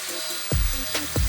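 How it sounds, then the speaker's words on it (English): Sanding sound effect from a monster-making video game, heard as three short rasping scrapes spaced about half a second apart, each with a low rough rumble, alone over a faint background. "sand them into shape."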